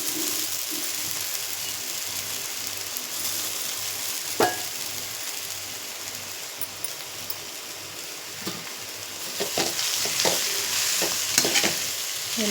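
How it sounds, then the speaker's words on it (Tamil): Grated white pumpkin sautés in ghee, making a continuous close sizzle. Utensil scrapes and clinks from stirring come through, and they grow more frequent toward the end. "இப்போ அதே நெய்யிலே நம்ம துருவி வச்சுருந்த பூசணிக்காயை போட்டு நல்லா வதக்கிக்கலாங்க"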